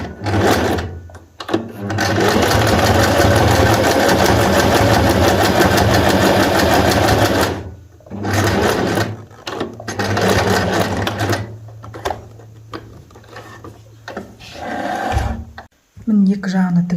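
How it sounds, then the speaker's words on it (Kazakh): A sewing machine stitching elastic onto a headscarf runs in long steady loud whirring stretches, stopping and restarting in shorter bursts, with someone speaking at times. "міне енді екінші жағын тігіп жатырмын"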